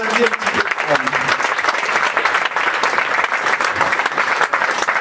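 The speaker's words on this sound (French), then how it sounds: "on peut vraiment remercier, applaudir le Big Band de l'école de musique de Petite Camargue" Loud, dense applause from an audience fills the space after a music school big band performance in Petite Camargue, continuous and close throughout.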